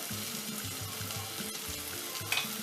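Chili pepper and other green sauce ingredients sizzle steadily in a frying pan, a close, continuous crackling fry with faint stirring bumps and no talking.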